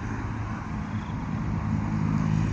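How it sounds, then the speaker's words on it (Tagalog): Busy expressway during rush hour, a continuous roar of passing cars and traffic noise with a slight swell toward the end, no voices. "so ang ingay, super busy hanggang doon ang traffic"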